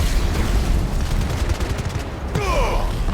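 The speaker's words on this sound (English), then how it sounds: "Meu Deus, quanta bomba." Bomb explosions in Final Fantasy 16 gameplay, a dense, rumbling barrage of blasts and crackling bursts that runs almost without a break, ending in a brief voiced exclamation.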